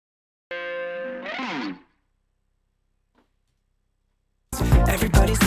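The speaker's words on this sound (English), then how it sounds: "the majority of what you're hearing here is the Prophet" Prophet 6 synthesizer stem: a bright, buzzy chord with stacked harmonics and a sweeping filtered tone, then near silence with a faint tick, before a dense, loud burst of full sound returns at the end.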